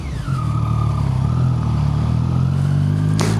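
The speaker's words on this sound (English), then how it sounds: "I just love that popple and crack when you wind it on a bit and then drop revs off." Three-cylinder motorcycle held at steady high revs, a loud and close engine drone with a rising whine; a short burst near the end may be exhaust crackle.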